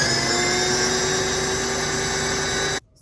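A food processor grinding ingredients runs at a steady, loud, dense whir for several seconds, then cuts off abruptly into near silence.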